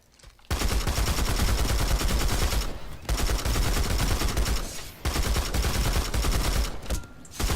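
A .50 caliber light machine gun with high-velocity ammunition firing in a video game, three long sustained bursts of rapid automatic fire separated by brief pauses, close and loud with no voices.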